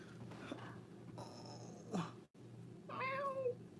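A cat meows several times, faint and indoors, with a longer drawn-out call near the end over low background hum.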